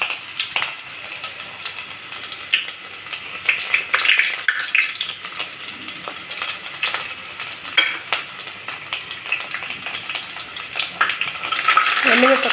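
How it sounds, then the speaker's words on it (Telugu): Mustard seeds and chopped onions fry in hot oil for upma, giving a close, continuous sizzle with scattered crackles and pops, and occasional stirring sounds. "సో ఆవాలు వేసుకుంటున్నాము. సో కొద్దిగా ఆవాలు ఎక్కువ వేసుకోవాలండి. సో అలాగ తరిగిన ఉల్లిపాయలు,"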